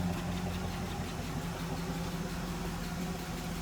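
A 1966 Chevrolet Caprice V8 with fresh oil idles steadily at low volume, a continuous even rumble with no talking over it.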